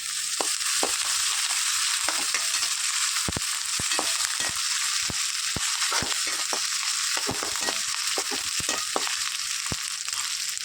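Onion, green chili, crushed ginger and garlic sauté in a pan for a side dish, a steady loud sizzle running throughout with frequent sharp pops and spatter clicks, no voices.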